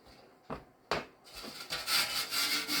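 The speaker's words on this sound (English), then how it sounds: "Just give it a light scuff. Don't take all the patina off, just to clean up slightly." A vintage brazed metal fuel can gets a light hand scuffing, with a few separate rubbing strokes followed by a quicker run of raspy scrubbing, close and fairly quiet.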